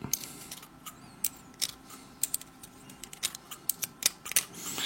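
Small scissors snip leftover wick fibres on a Sigelei MoonShot atomizer, giving a quick series of close, crisp clicks and snips at an irregular pace over a low background hiss.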